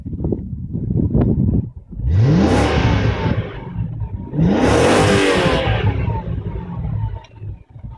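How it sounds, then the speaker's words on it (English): A Ford GT FPV with a 5.4L V8, six-speed auto and dual exhaust, revved hard twice in long rising blips that fall back to a burbling idle, loud and close with no talk. "Very nice sounding V8."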